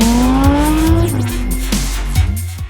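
An Audi R8 V10 Plus with a naturally aspirated 5.2-litre V10 revs hard on an airstrip, the loud engine note climbing through gears with sharp shift breaks and a brief tire squeal, close and unaccompanied by talk.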